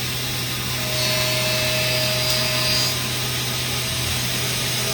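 A 5-axis CNC machine takes a light whisker pass across the top of rifle bolt lugs, giving a steady, loud, continuous cutting whine and hiss with a faint tonal ring.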